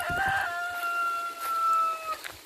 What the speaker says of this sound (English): I'll show you where I've put the chickens.